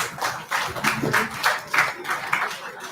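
A smaller group claps for dignitaries at a summit, individual claps distinct and rhythmic, near and fairly loud, with a few voices mixed in.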